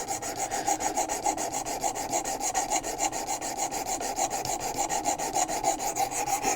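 Steady back-and-forth strokes of a knife edge across a sharpening stone on a WorkSharp Precision Adjust, a continuous dry rasping scrape with an even rhythm and no voices.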